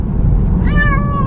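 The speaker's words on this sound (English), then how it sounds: "She's been quiet and then she's been meowing" Feral kitten meowing in a car on the way to the vet, a single loud, drawn-out meow rising over the low rumble of the moving vehicle.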